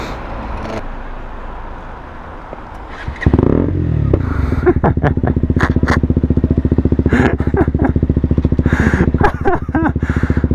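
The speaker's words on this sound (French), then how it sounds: "J'éteins la moto, je la redémarre, c'est tellement énorme." A Paika motorcycle engine idles, then is restarted, catching with a loud burst and settling into a close, rapid, even idle thump with faint clattering.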